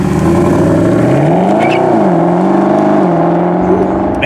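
A Mercedes SLS AMG accelerates hard on a drive. Its engine note rises and falls through the gears as a loud, continuous roar, close up, with no voices.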